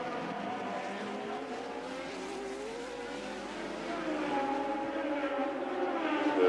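Turbocharged Formula 1 race cars at Monaco roar continuously with high, rising engine whine, several cars layered together and growing louder toward the end.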